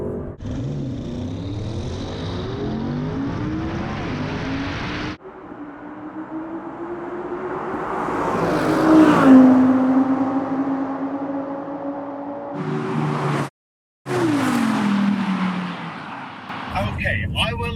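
A 2020 Audi RS7 and a 2020 Audi R8 RWD launch in a drag race, their engine roar rising and sweeping as they accelerate away. The noise fades into distance, and brief talk and wind rumble follow.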